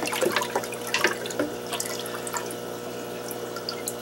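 Aquarium water for Blue Gularis (Niger Delta) eggs being stirred, a close, steady swishing and trickling with small splashy bursts, no voices.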